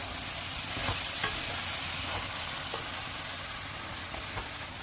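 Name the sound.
stirring pea greens frying in a pan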